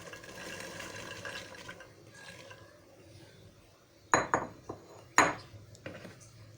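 Shelled peas are stirred into a pot of potato curry, a low wet churning broken by two sharp clanks and scrapes of a spoon against the pot's metal rim.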